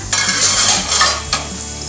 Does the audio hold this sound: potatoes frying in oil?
yes